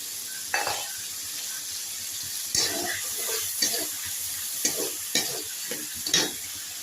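Small shrimp hitting hot spiced oil in a pan, a steady loud sizzle broken by sharp bursts of crackling as the pieces are added and stirred, with occasional clinks of a utensil against the pan.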